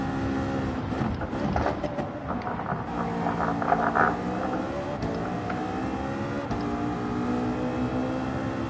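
A racing car engine in Gran Turismo 7 revs and climbs in pitch under acceleration, a steady loud mechanical whine with shifting tones and no voices.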